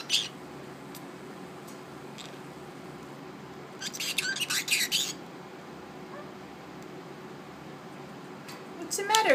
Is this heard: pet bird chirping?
yes